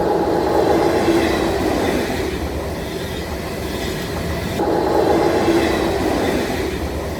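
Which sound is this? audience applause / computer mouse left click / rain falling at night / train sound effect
train sound effect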